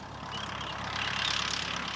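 Steady engine drone from a Ferguson TE20 tractor pulling a five-row sugar beet hoe, swelling slightly louder partway through and holding an even, unbroken tone.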